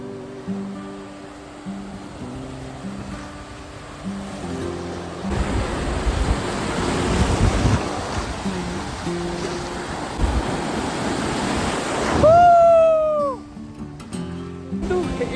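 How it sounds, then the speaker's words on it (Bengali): Sea waves break and wash on Tajpur beach at low tide, a broad surf roar swelling mid-stretch under and between a person's speech, with a brief whistling tone near the end. "পুরো ঢেউয়ের কথা যদি বলতে চাই, কিন্তু এরকম কিন্তু ঢেউ রয়েছে"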